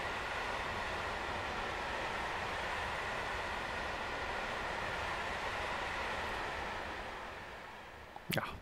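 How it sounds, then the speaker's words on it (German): Freight train of about 20 wagons hauled by a Dispolok through the Spessart in Train Sim World 4, a steady loud rolling rumble throughout that eases off near the end with a brief sharp clank. "Aber hier der Zug in voller Länge. 20 Wagen haben wir, glaube ich, am Haken."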